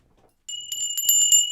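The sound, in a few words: tinkly bells ringing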